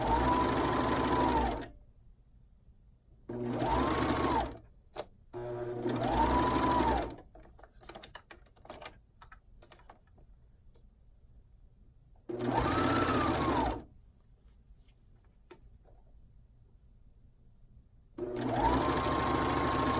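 A sewing machine stitches elastic into a reversible scoop bikini in short loud bursts, about five runs of whirring stitching separated by pauses with quiet handling of the fabric.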